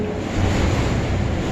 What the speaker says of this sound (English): Listen to that frickin' wind.